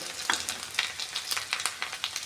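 Ground garlic sizzles and crackles in a hot pan while being stirred, with scattered pops and spitting bursts over a steady frying hiss, close and moderately loud.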